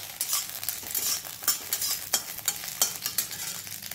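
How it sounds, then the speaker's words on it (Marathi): Green chillies roast in a little oil in a pan, a quiet crackling sizzle broken by frequent spatula scrapes and knocks against the metal, close by and without voices. "थोडंसं तेल घालायचं आहे आणि छान अशा भाजून घ्यायच्या आहेत त्या।"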